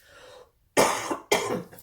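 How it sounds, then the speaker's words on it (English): Two harsh, forceful coughs come in quick succession after a moment of quiet, close and loud. "There's me coughing again."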